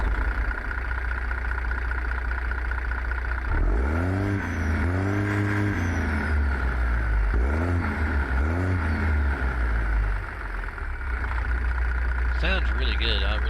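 A Case Magnum 380 heavy-haul truck engine in an American Truck Simulator mod runs in a steady, deep idle close up, with brief revs in the middle and a voice talking over it.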